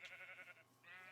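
A sheep in modded Minecraft lets out two short quivering bleats, separated by a brief pause, faint and with nothing else over them.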